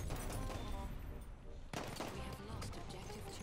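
Rapid gunfire and explosions in the World War I shooter game Battlefield 1, loud and dense throughout, with voices talking over the battle.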